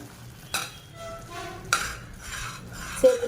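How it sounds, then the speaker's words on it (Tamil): Boiled chickpeas tipped into a curry pan, with a few clinks of a spoon against the pan and light stirring over a soft sizzle, no voices. "இதில் வந்து நம்ம வேக வச்சு கொண்டக்கடலையை வந்து சேர்த்துக்கலாம்"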